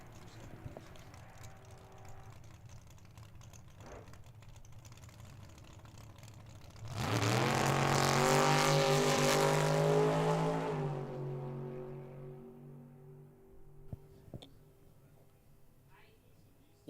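A 1968 Chevrolet Camaro makes a drag racing run at Tucson Dragway. After a quiet stretch, its engine bursts into a loud roar for about four seconds, rising in pitch, then fades away into faint background rumble.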